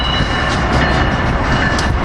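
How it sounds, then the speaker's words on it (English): A late regional passenger train led by ACS-64 locomotive 623 pulls into 30th Street station with a loud, continuous rumble and rail noise, plus faint high squeals, close by and without voices. "We got ACS 64 623 leading this regional in, running late."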